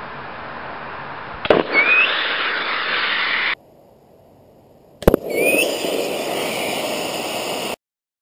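Two loud bursts of an air tank wrapped in two to three layers of Gorilla tape during a destructive test, each sharp bang followed by a long roaring hiss of escaping air that cuts off abruptly.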